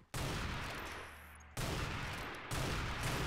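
Shock rifle fire in Unreal Tournament 4, three sustained energetic bursts in a row, each starting abruptly and filling the mix with dense, loud noise, no talking.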